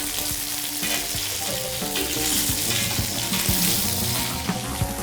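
Lamb legs frying in a pan give off a steady, loud sizzle and crackle, with occasional light clicks and scrapes nearby.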